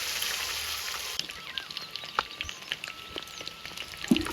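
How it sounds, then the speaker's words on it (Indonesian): Eggs fry in a pan for a spicy eggplant stir-fry, a steady soft hiss with faint crackles and pops, close and fairly quiet, with no talk. "Sekarang telurnya digoreng dulu."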